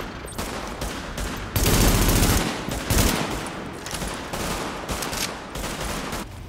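Rapid automatic gunfire from The Division video game, loud and sustained bursts with a heavy stretch of continuous firing midway, followed by further spaced bursts up close.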